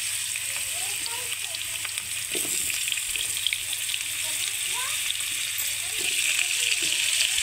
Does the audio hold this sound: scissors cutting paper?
no